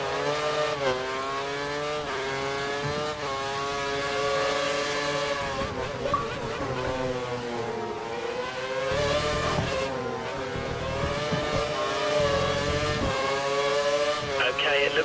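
Formula One car engine howling at full revs in the F1 2013 racing game at Imola, loud and continuous with pitch sweeping up and down through gear changes, a voice talking over it.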